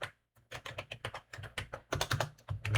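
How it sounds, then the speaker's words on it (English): Rapid, irregular keystrokes on a computer keyboard, close and clear, in quick bursts with a short pause near the start, with no voice. "If I can type."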